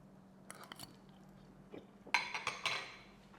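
Someone chews a bite of pasta al limone, faint and close in a quiet room, with a few light fork or dish clinks and then a louder run of soft, moist chewing.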